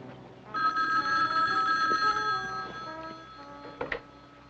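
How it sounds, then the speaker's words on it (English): An old telephone bell rings in a 1974 thriller, a loud sustained metallic ring that fades over a few seconds before a brief clatter, as of the receiver being picked up. "Oh, my phone's ringing."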